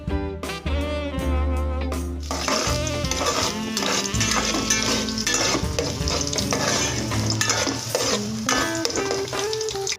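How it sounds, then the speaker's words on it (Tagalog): Ginger sautéing in cooking oil for chicken tinola, a loud hiss and crackle beginning after a few seconds and holding steady, with harmonic tones at the start. "maglagay tayo ng mantika at igisa natin ang luya"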